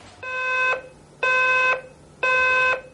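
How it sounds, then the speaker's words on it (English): An electronic alarm clock beeps in three evenly spaced bursts, each a harsh buzzing tone about half a second long, loud and close. "When my alarm clock goes off in the morning, I don't wake up."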